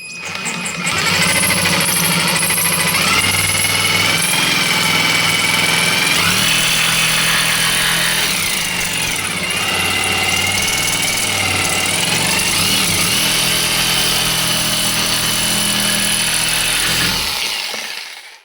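A GTM JS18/65 cordless jigsaw cuts steadily through glued, fibrous board, its motor whining loud and close for about seventeen seconds with a strained, slightly wavering pitch before it stops.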